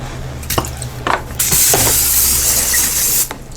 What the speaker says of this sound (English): Spray them again with olive oil.